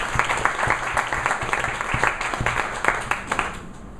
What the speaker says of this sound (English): A loud round of applause, guys.